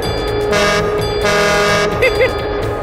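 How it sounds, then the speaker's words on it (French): Two sustained whistle blasts from a train, each lasting about a quarter second, loud and close, over a steady rumbling background. "Tu peux siffler 2 fois."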